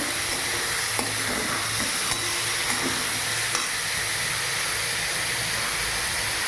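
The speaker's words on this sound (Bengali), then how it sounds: "আর দিয়ে নেবো তেজপাতা। ভালো করে নাড়তে থাকবো।" Bay leaves frying in oil with salt, stirred in a pan for a semolina breakfast dish: a constant hissing sizzle with a few faint spatula taps, close and steady, no talking.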